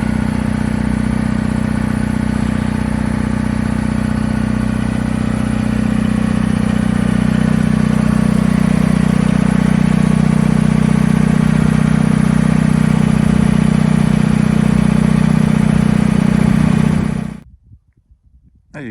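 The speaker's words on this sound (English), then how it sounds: "smoother once the engine's warmed up." A John Deere 435 tractor engine idles steadily and loudly up close, a deep, even, clattering diesel drone that runs for about seventeen seconds before cutting off abruptly.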